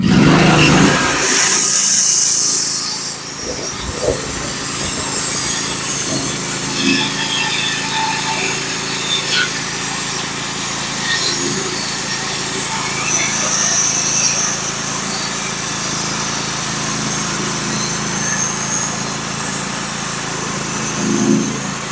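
A Norwood HD36v2 sawmill cuts walnut boards; a gas engine roars loudly at first, then settles into a steady mid-level running drone as the blade works through the log, with scattered thumps and rattles.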